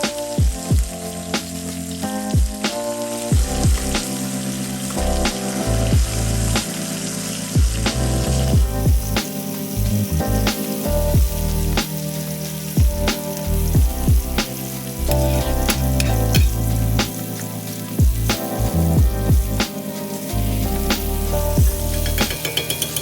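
A chuck roast sears in a pan while butter is spooned over it, giving steady loud sizzling and spattering with repeated sharp crackles and scraping, no voices.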